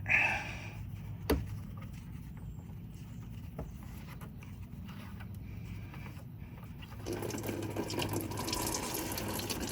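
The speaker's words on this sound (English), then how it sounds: "underneath here on the driver's side, we have a drain valve, and we will drain whatever's left here" Coolant drains from the driver's-side radiator drain valve of a 2014 Toyota Tundra with 160,900 miles, a steady watery trickle that swells into a fuller, louder stream near the end, with no voices.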